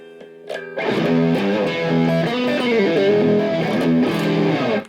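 A heavily distorted electric guitar, run through an Aleks K Production Maple Leaf Royal Drive pedal cranked to maximum, plays loud sustained chords and riffs, thick and saturated, starting after a brief softer note.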